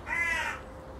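A single bird call, a crow-like caw, rings out once, fairly close and clear, lasting about half a second before fading into quiet room tone.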